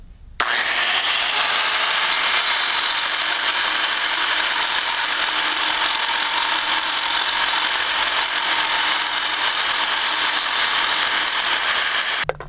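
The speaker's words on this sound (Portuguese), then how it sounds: "vamos lixar as rebarbas da lata" Power sander grinding the burrs off the rim of a tin can, a loud continuous high whine running steadily without pause from start to stop.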